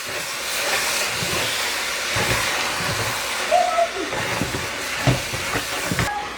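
Crayfish and chili stirred and frying in hot oil, a continuous loud sizzling hiss with occasional scraping and clinks of the utensil against the pan.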